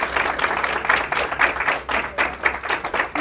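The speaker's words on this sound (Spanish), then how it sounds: "le puede pedir un fuerte aplauso para él" An audience at a hospital breast institute inauguration applauds CEO Armando Rodríguez, with loud, fairly close clapping that swells and dips in uneven waves and no speech over it.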